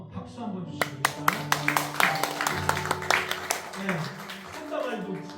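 A church congregation gives a short burst of applause, sharp scattered claps rising and fading over a few seconds while voices talk over and around it.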